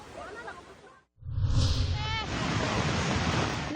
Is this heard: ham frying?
no